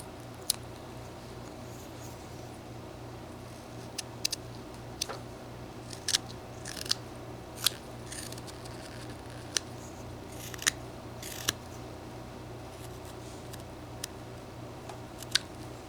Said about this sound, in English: we're just going to shape that nose a little bit. And we'll cut it a little bit deeper.